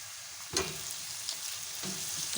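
Ginger garlic paste frying with softened onions in hot oil, a constant close sizzle with two brief louder bursts as it is stirred in.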